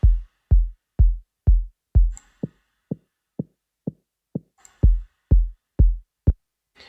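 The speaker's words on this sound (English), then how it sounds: "I combined it with a kick with a proper low end" Self-oscillating synth bassline layered with a kick drum that has a deep low end, a steady pulsing pattern of punchy thumps alternating with softer, pitched bass plucks, alone and close.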